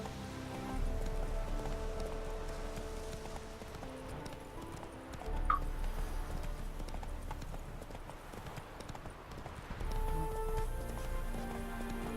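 Roach the horse's hooves clip-clopping in The Witcher 3 game, a steady, fairly quiet rhythmic hoofbeat over soft ambient game background, with a brief whinny-like cry partway through.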